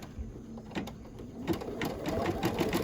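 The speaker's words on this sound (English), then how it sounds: "This is my third embroidery machine. And the one I'm using right now is a Brother Innovus." A Brother Innovis embroidery machine stitching a Halloween quilt block, a steady close mechanical whir with fast rhythmic needle ticks throughout, no talk.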